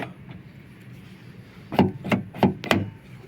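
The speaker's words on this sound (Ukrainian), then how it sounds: "дверка закрилась." After a quiet stretch, four sharp knocking clunks follow in quick succession as a car door latch is shut during repair work, close to the microphone.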